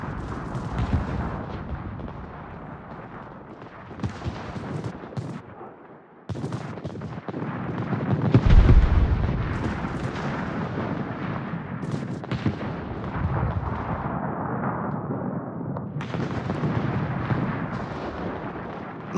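Heavy gunfire and booming artillery fill a naval-style video game battle, a dense rumbling barrage with a loud low blast near the middle and continuous rolling fire around it.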